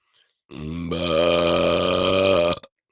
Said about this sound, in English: I'm gonna let out a burp